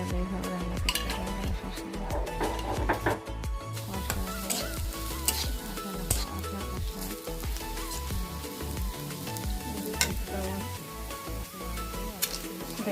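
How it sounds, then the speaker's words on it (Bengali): Whole spices (cumin, bay leaf, cloves and other dry spices) sizzle and crackle in hot oil while being stirred with a utensil, a steady frying hiss with occasional clinks of metal against the pan. "জিরা দিলাম, তেজপাতা দিলাম, সাদা মশলা, চোলা, লবঙ্গ সব কিছু দিয়ে ভেজে নিলাম"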